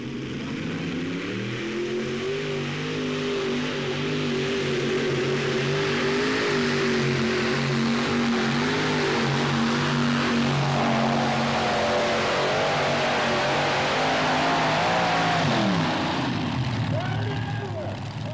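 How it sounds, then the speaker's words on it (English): A pulling tractor driven by five Chevrolet V8 engines roars loud and close, its dense engine note sustained and wavering in pitch as it labors under load, shifting near the end. "his modified tractor gets its power from using 5 Chevrolet V8 engines"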